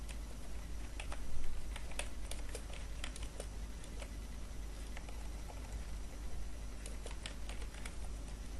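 Typing on a computer keyboard: steady, quick, fairly quiet key clicks in an irregular patter, with a brief louder burst early on, against a low background hum.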